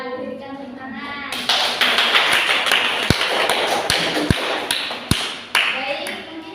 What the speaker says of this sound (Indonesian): Yang berikan tepuk tangan.